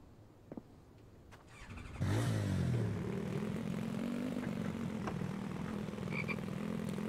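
Low croaking frog calls in the zombie survival game The Infected, a loud harmonic croak swelling in at about two seconds and holding steady over a constant game ambience, no talk.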